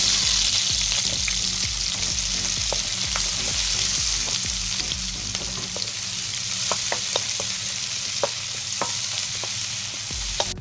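Garlic and onion sautéing in cooking oil in a pan for ginataang isda, a steady loud sizzle throughout with scattered sharp crackles and pops from the frying.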